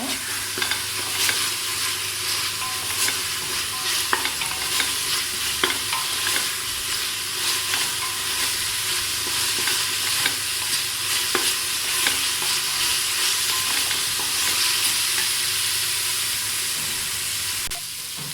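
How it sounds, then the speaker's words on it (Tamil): Ginger garlic paste sautéing in a pan for goat leg curry, a steady loud sizzle with frequent stirring scrapes throughout, no talk. "இஞ்சி பூண்டு பேஸ்ட் நல்லா அந்த பச்சை வாசனை போகிற அளவுக்கு வதக்கணும்."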